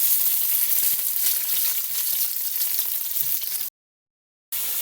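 Hot pepper, garlic and onion frying in a pan give a loud, steady sizzle from start to near the end, broken by a brief full silence before the hiss resumes; no one talks.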